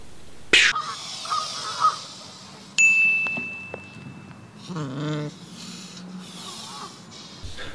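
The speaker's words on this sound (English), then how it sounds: "We need a real goose, not a metaphorical goose." A goose honks in one short harmonic burst partway through, mixed with a sharp ding, a tinny tone and scattered clatter in a busy, close-miked scene.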